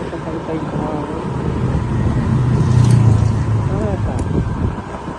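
Road traffic crawling along Taytay Highway, a steady broadband rumble of car and bus engines that swells near the middle, with a voice talking over it.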